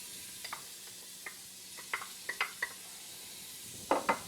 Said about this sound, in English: right now we've got some olive oil heating in the pot, easy peasy, and we're gonna start with our shredded onion